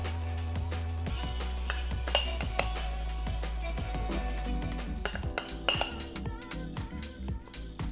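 Dishes, bowls and cutlery clink and clatter through a kitchen while a quinoa salad with avocado, apples and pears is plated, with steady scraping, knocks and light metallic pings close by over a humming background.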